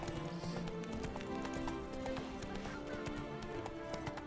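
Roach, Geralt's horse in The Witcher 3: Wild Hunt, clip-clops along in a steady rhythmic trot over a dense bed of game ambience and sounds.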